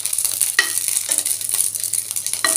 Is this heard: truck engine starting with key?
no